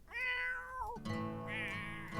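A cat in a video game gives two clear, close meows, the first drawn out and falling at the end, the second brighter and shorter, with nothing else audible.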